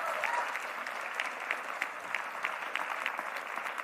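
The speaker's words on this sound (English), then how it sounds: "So give them a round of applause for participating this year." An audience claps for a cohort at a biotech demo day, a fairly distant, even patter of many hands with a few sharper claps standing out, going on without letup at moderate volume.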